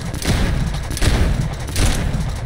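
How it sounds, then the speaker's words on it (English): Shotgun blasts in Dead Island 2, three loud, close booming shots spaced roughly three-quarters of a second apart over a busy game background. "Fire shotgun."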